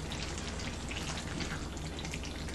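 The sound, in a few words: stuffed pepper mixture simmering in pan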